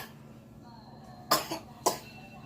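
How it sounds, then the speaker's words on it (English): Two sharp coughs, with a smaller one between them, sound close and loud against a quiet room, like a small child's cough. "Sorry, that's my baby coughing."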